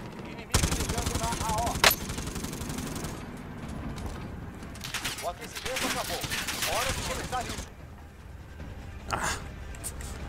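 Rapid bursts of gunfire in Call of Duty: Warzone crackle through most of the clip, with automatic-weapon rattles and a few louder single shots.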